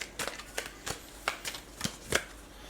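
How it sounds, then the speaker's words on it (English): Tarot cards are shuffled and drawn by hand, a quiet close run of soft riffling flicks and slaps that come in separate bursts, with no voice over them. "let's pick out 4 synchronicity cards"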